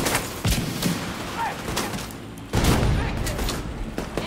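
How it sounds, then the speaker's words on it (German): Rocket launcher fire and impacts in the Division 2 video game, two heavy booming blasts with rumbling tails, one early and one midway, amid other combat noise and gunfire. "versuchen wir es nochmal mit einer Rakete"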